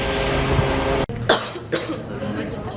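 A person coughs several times in short, sharp bursts aboard a bus, following a brief thud, with light background rumble.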